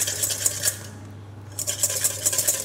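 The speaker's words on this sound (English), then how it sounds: "Then whisk in the olive oil." Olive oil whisked into a red wine vinegar and mustard dressing, a metal whisk clicking and scraping in rapid rhythmic bursts against the bowl, pausing briefly midway before resuming, close and alone with a low steady hum beneath.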